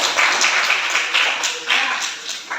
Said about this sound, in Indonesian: tepuk tangan buat Bagis yang sudah menjawab pertanyaan dari Ibu